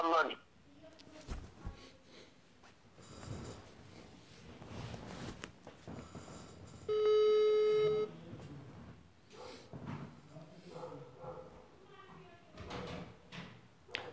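A phone call is dialed and rings: a steady electronic ringing tone of about a second stands out mid-clip, surrounded by soft clicks and rustles while someone speaks over it.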